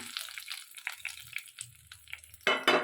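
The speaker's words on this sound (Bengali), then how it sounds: "ভালো করে আমি এটা ভেজে নেব" Quiet, intermittent sizzling of a dried red chilli and spices frying in a pan, with soft crackles and a couple of louder bursts of hissing at the end.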